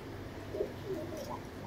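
Sialkoti pigeons give soft, low cooing calls, faint and somewhat muffled over a steady background murmur, with no talking.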